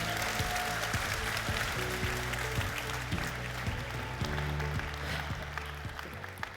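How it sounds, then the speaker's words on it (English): An audience at an enterprise software product keynote gives a steady round of applause for the speakers. The clapping is fairly soft and distant, running over a low tonal background that fades toward the end. "So please give a round of applause for Sujith"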